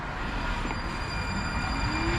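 Metro train rumbling at a station platform in America, a steady loud rail roar with a rising wheel squeal toward the end, no talking.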